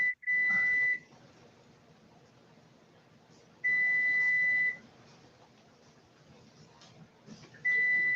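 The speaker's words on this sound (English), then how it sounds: "And there's the timer going." A kitchen timer goes off while beef taco meat is being canned: three loud, steady electronic beeps, each about a second long, separated by several seconds of quiet room noise.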